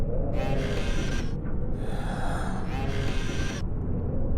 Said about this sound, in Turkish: Herif bir garip nefes alıp veriyor ya böyle falan diye.